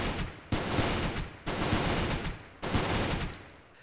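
Rapid gunfire bursts from the space-station video game Goobstation striking a mech, three loud sustained volleys separated by brief gaps, with no speech.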